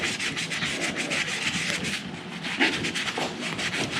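Rapid back-and-forth scrubbing on an old aluminum car wheel between its rivets, a close, continuous rhythmic rubbing scratch.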